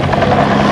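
A helicopter used for flight instruction runs loud and close at a helicopter show, its steady rotor thump and engine drone filling the moment without any voices.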